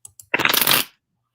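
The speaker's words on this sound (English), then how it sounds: "These cards are new. I could shuffle forever and they're still not worn in" A brand-new tarot deck is riffled in one quick shuffle, a close, crisp burst of flapping cards lasting about half a second after a couple of soft taps.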